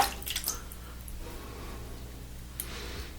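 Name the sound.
water dripped onto shaving puck soap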